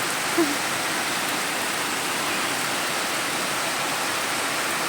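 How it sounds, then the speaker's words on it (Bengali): Heavy rain pours down in a dense, unbroken hiss that stays loud and even throughout. "প্রচুর হারে বৃষ্টি হচ্ছে কিন্তু আমাদের এখানে"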